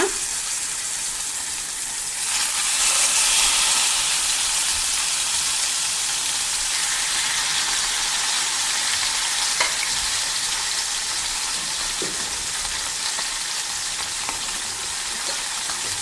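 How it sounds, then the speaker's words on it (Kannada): Marinated mackerel frying in coconut oil in a pan, a steady, close sizzle that runs throughout with small crackles and no talking. "ಈಗ ಇದಕ್ಕೆ ಮೀನು ಹುರಿಲಿಕ್ಕೆ ಬೇಕಾಗುವಷ್ಟು ತೆಂಗಿನೆಣ್ಣೆಯನ್ನು ಹಾಕಿದ್ದೀನಿ"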